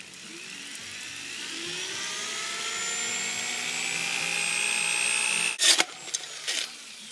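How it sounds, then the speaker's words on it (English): A power drill whirs steadily, its pitch rising as it bores in, then cuts out with a few short bursts and clunks at the end. "Now I'm going to drill on the side here"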